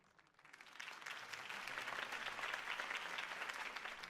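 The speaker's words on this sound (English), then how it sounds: "If only Mr. Wayne, my campaign's largest backer, could have heard that applause" Crowd applause rising and holding steady after a campaign speech in the Batman: The Telltale Series game, a dense wash of many hands clapping that swells in from quiet.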